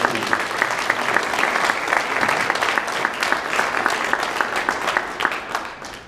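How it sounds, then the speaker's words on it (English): An audience at a city council candidates forum applauds, dense steady clapping from many hands that carries on without a break for several seconds, fading slightly at the end. "Another round of applause for all of our candidates."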